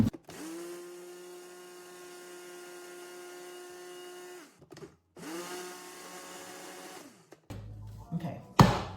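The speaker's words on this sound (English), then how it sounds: "I'm just gonna stick it on the blender for a second and just grind it into a powder" A blender whirs steadily at high speed grinding oats into powder for several seconds, pauses briefly, then runs again before stopping, followed by some clattering.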